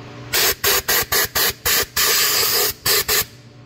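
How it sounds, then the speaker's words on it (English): Compressed air blasting rust particles out of a Jeep Wrangler JK front wheel speed sensor hole, about a dozen sharp close hissing bursts in quick rhythm, one held longer, with no talk. "Then I think I'm gonna blow this out with some air because I see some particles in there."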